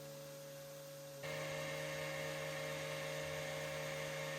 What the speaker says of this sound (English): I switched to my orbital sander instead